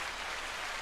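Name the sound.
clapping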